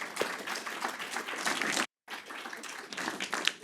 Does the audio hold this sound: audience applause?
yes